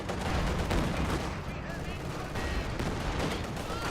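Rapid grenade and gunfire in Company of Heroes 2 battle, a dense continuous barrage of bursts and explosions filling the scene at steady loudness, with a voice talking over it.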